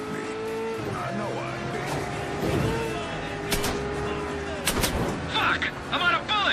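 Gunfire in a Mafia 3 cutscene car chase: sharp shots crack at intervals over a droning engine and squealing tires, with louder clustered shots near the end.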